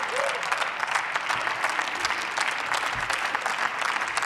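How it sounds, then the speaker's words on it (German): Steady, dense applause fills a parliamentary chamber after a speech in a Women's Day debate, sustained evenly and moderately loud throughout. "Applaus"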